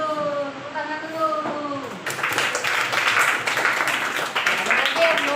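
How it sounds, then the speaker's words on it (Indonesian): Children in a classroom clap together after a teacher's call, a dense burst of applause that starts abruptly and carries on steadily, with a speaking voice just before it begins. "Tepuk tangan dulu."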